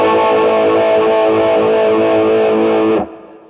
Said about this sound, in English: that's our distortion sound